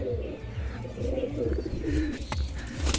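A pigeon inside its rooftop coop gives soft, repeated low cooing, close and fairly quiet over faint background noise.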